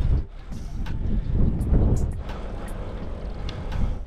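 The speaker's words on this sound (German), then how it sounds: "dann kommst du um die Ecke, so wie hier. Frischt der Wind wieder auf." Wind gusts over a mountainous stretch of Tenerife during a bike tour, a steady low rumble buffeting the microphone that swells and eases in close, loud surges, with no voices.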